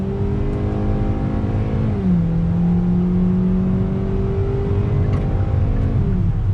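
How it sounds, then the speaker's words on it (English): A 2020 Kia Forte GT-Line with a naturally aspirated engine and automatic transmission accelerates under throttle, its engine note climbing steadily, dropping at a gear change, then rising again over loud road and cabin rumble. "Let me go ahead and get on throttle."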